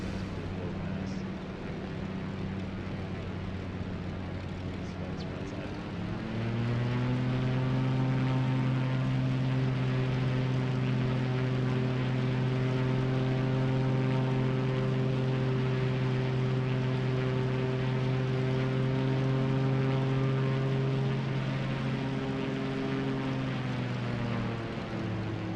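Pitts biplane engine in Microsoft Flight Simulator 2020 making a low pass over Northern Canada, a loud steady propeller drone whose pitch rises and then holds, with a brief shift near the end.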